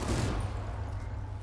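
Death Machine minigun blazing in Black Ops 3 zombies: a dense, continuous roar of rapid gunfire with heavy low rumble, steady and loud throughout with no pauses.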